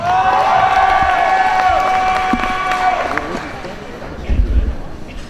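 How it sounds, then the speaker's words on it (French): A cosplay event audience claps and cheers for an Ezio Auditore performer, the lively burst fading gradually, with talk and an announcer's voice running over it and a low thump near the end. "Applaudissez très fort, Ezio Auditore."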